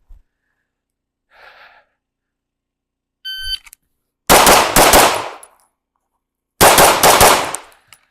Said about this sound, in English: What I'm going to do is shoot each target with 2 rounds, go to the other side of the stick and shoot each target with 2 rounds.